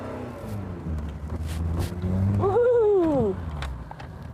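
A Peugeot 205 GTI engine rumbles steadily as the car drives along, with a loud excited whoop over the engine midway through.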